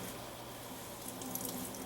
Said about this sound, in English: I'm going to try to squeeze as much water as I can out of the spinach